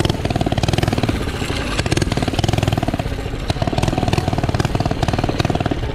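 A mini bike's small engine blats and revs hard during wheelies, with a loud, choppy pulsing exhaust close to the listener throughout.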